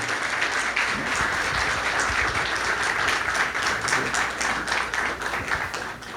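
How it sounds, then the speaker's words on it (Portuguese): Congregation at a Christian testimony gathering applauding, dense continuous clapping from a large crowd at moderate loudness, sustained evenly for several seconds with no talk. "aqueles que creem, dêem um aplauso aí a Jesus."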